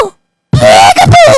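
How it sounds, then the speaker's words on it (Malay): Deer call from a zoo video game, a single loud drawn-out voiced bellow with a wavering pitch, heard after a short silence. "Itu bunyi rusa."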